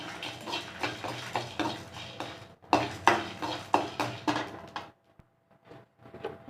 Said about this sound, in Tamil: காஞ்ச மிளகாய் போட்டுக்கலாம் நல்லா மினி லைட்டாக சூடு பண்ணிக்கலாம் சூடு பண்ணி வறுத்துக்கலாம்